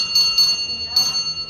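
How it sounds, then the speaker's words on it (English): Railway signal box block bell struck in a short coded sequence, three bright metallic rings close together then another after a pause, each with a lingering high ring, close and clear over low room noise. "what he repeats back is the same bell signal he was given."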